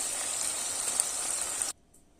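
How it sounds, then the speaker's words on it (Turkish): Week-old leftover peppers fry in a pan with a steady, bright sizzle that cuts off abruptly near the end, leaving near silence. "önceki haftadan biberler duruyordu. onları da kızartıyorum"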